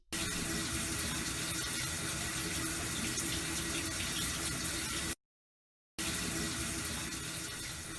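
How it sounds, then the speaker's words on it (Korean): A shower runs in a continuous, even hiss of spraying water, faint and steady, broken only by a brief gap before resuming. "샤워기 물소리."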